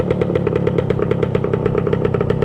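A small-displacement 1966 Suzuki Bearcat motorcycle engine runs nearby with a rapid, even putter, its popping exhaust pulses steady and loud.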